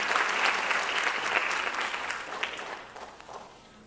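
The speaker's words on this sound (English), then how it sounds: "Another round of applause." Steady applause from an audience at a classical Indian dance debut recital, loud at first and gradually fading toward the end.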